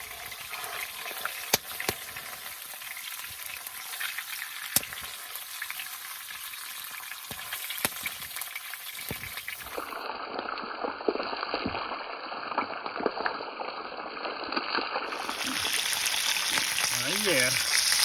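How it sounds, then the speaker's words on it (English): Lake trout frying in oil in a frying pan on a solo spring canoe trip in Algonquin Park, a steady crackling sizzle throughout that grows busier and louder in the second half. "I just put oil in the frying pan, as you can see."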